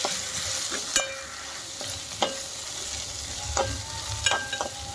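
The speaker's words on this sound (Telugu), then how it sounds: "కొంచెం అవి నూనెలో వేగాలి." Boiled, peeled taro root pieces frying in oil with browned onions, a steady sizzle broken by several sharp scrapes and taps of a ladle stirring the pan.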